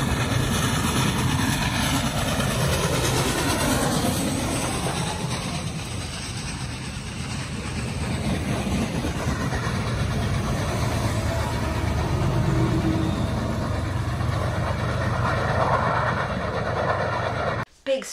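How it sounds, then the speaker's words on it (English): A heavy train roars past very close, a loud continuous rumble with engine drone that swells and holds before cutting off. "Scary loud train."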